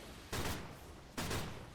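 Two sharp bursts of flak cannon fire in a strategy video game, each a sudden crack followed by a short decaying rumble, spaced about a second apart and fairly faint.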